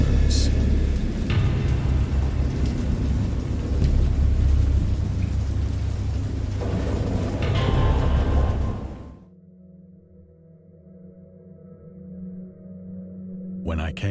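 Heavy rain pours with deep rumbling thunder for about nine seconds, then cuts to a quieter low hum.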